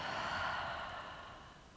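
A slow exhale out through the mouth during a yoga session, a soft breathy rush of air that gradually fades over a couple of seconds, close and quiet.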